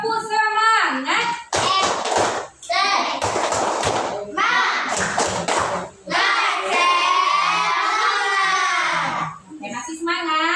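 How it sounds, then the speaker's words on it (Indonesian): Children in a classroom do a rhythmic spirit clap, with bursts of sharp, patterned claps alternating with loud chanting and shouting voices, close and lively. "Tepuk semangat."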